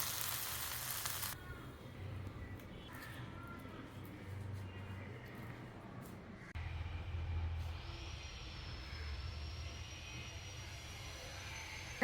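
Rava dosa sizzling on a hot pan after being flipped: steady, close broadband frying hiss running throughout with a low roar underneath, no talking.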